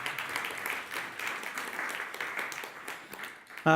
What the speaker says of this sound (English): Let's give big applause to Jonathan.